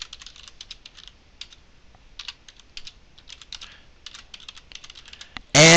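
A tweet being typed on a computer keyboard: quick, irregular bursts of light key clicks with short pauses between words, close and clear in a quiet room, ending with a sudden louder burst of noise.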